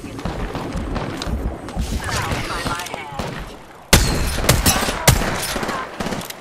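A 30-30 Repeater lever-action rifle fires in Apex Legends ranked play, loud sharp shots standing out over dense game noise and a talking voice, with a heavy blast near the middle.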